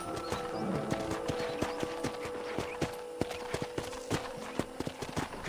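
Horse hooves clip-clop at an easy walking pace on a ranch in the video game Red Dead Redemption, crisp and fairly close, over a soft outdoor ambience with a faint tonal hum.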